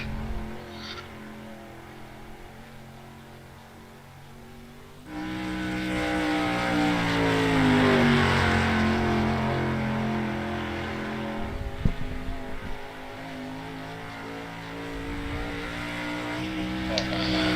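Race cars lap a short track at a Wednesday night Cash Clash event, their engines rising to a loud, close, revving roar as they pass, then fading into a steady background drone, with commentators talking over it.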